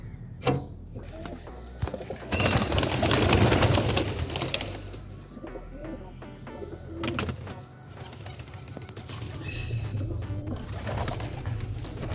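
Pet pigeons coo from an opened loft, soft repeated calls mixed with rustling, wing flutters and clattering near the birds, with loud handling noise in the middle.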